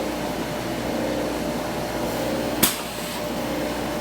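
A laboratory vacuum line pumps on a magnesium anthracene THF sample, giving a steady, even mechanical drone throughout with a single brief click partway through.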